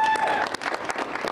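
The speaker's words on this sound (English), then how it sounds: "Applause and cheers as Arlington's NAACP president, Elisa Simmons, broke the news to a crowd of community members" Crowd of community members in Arlington applauding and cheering, a dense burst of claps with tonal shouts at the start and sustained clapping throughout.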